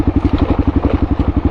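A Kawasaki KLR650 single-cylinder motorcycle engine idles close by, a loud, steady, rapid thumping pulse with no other sounds.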